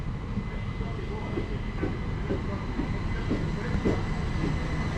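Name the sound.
Class 377 train arriving at the station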